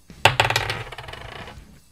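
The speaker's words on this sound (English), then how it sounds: "let's roll the dice of destiny to find out which album gets" Dice clattering onto a hard surface, a sharp first impact followed by a quick series of rattling bounces that fade out.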